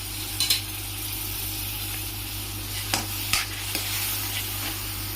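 Yogurt masala is stirred into ginger garlic paste in a hot pan, giving a loud, steady sizzle with a few spoon clinks and scrapes over a low hum, and no talking.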